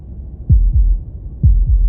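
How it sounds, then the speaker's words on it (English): A video game heartbeat effect from Slay the Princess: deep, muffled double thumps, two pairs of low beats heard up close against near silence. "That was the sound of a heartbeat,"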